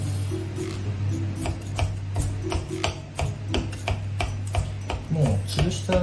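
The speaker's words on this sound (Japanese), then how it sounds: "みじん切りにしていきます。" A kitchen knife minces crushed garlic on a cutting board, a steady series of sharp, close taps in an irregular rhythm over a low constant hum.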